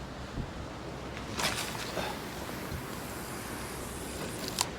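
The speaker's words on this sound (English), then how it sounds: "that wind's swinging it away to the right" Steady wind buffets the microphone on an open shoreline during winter bass fishing, a constant broadband rush with a few stronger gusts and faint surf underneath, no talking.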